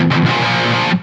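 A loud, heavily distorted electric guitar burst in standard tuning: a short, dense chugging riff from DOOM's E1M1 theme, lasting about a second.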